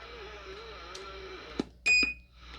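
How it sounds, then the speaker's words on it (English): A short electronic radio talkback beep sounds over a steady hum, followed by a louder, brief tonal bleep and a few clicks. "there's our beep"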